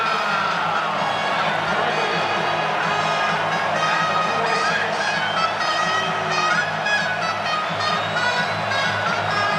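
Loud stadium crowd roaring and whooping during a college football game, Georgia at Missouri in 2022, a dense sustained wall of cheering at full volume throughout, with a faint voice now and then.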